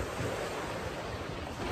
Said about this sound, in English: Here we are in the beach.